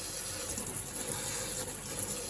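Orchid plants being watered, a steady gush of poured water splashing continuously and evenly at close range with no pauses.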